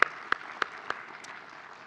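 Sparse applause at an academic prize session for spine research, a few distinct, fairly loud claps spaced apart at first, then fading into a thin scatter of quieter clapping.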